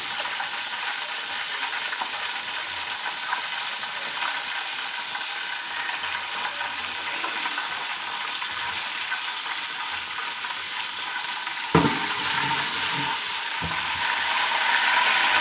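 Cumin seeds, one tablespoon, crackle in hot oil in a home kitchen pan, a steady bright hiss of frying with a couple of sharper clatters near the end.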